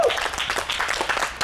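An audience claps and cheers at a live music listening session, a dense, close burst of applause that fills the short moment without a break.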